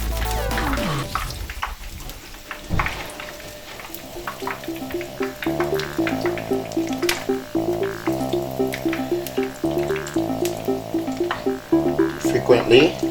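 Akara bean cakes fry in hot oil, giving a steady, dense sizzle and crackle that runs the whole time beneath a tuneful musical backing, with no talking.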